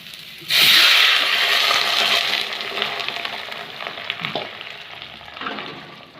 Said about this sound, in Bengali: এখন ঝোলটা দিয়ে দেবো